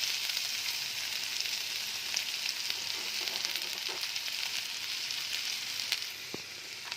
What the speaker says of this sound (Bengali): আলুটা আমার হাফ ভাজা হয়ে গেছে, এবার আমি এতে পেঁয়াজ কুচি দিয়ে দেব